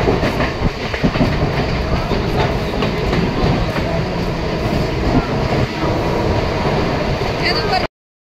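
A Mumbai local train running on its rails, loud continuous rumble with rhythmic clickety-clack from the carriage, heard from inside throughout before cutting off abruptly at the end.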